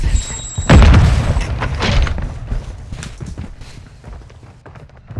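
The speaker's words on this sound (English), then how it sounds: "Throw in Semtex!" A Semtex grenade detonating in a multiplayer shooter match gives one sharp, heavy boom near the start, followed by rumbling debris thuds and softer impacts as the blast fades.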